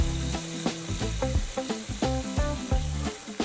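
Vegetables sweating down in a pot for beetroot coconut soup give a steady close sizzle with soft crackles and small pops, running continuously with no talking.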